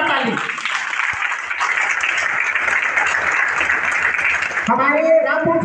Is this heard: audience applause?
yes